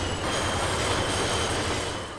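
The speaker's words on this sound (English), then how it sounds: "In the original version, it sounds like this." A train brakes with squealing metal and rumbling wagons in the original GTA San Andreas video game, a steady close screech over a low rolling roar, with no talk.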